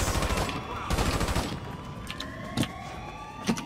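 Bursts of gunfire in GTA V, a couple of rapid volleys early followed by sparser single shots, loud and close.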